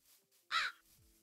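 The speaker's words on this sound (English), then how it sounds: "And I hear a lot of crows." A single loud crow caw in a Minecraft modpack game, one harsh nasal call standing alone against a quiet background.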